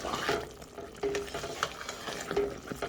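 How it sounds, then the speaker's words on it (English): Pecan candy mixture cooking in a pot bubbles softly while being stirred, with scattered pops and gentle scraping at close range. "That's coming out, that's candy cooking."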